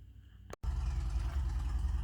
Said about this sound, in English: Sorry about the noise, my neighbor and his Harley.